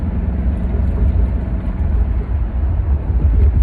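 A 1989 Mercedes-Benz 560 SEC W126 coupe accelerates. From inside the car, its engine makes a loud, steady low rumble with no talking.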